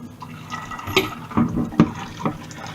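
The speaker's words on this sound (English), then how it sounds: "giving these things a quick rinse straight away" Tap water runs over freshly used kitchen pans and utensils in a sink, with splashing, clinks and irregular knocks as items are rinsed, close and moderately loud.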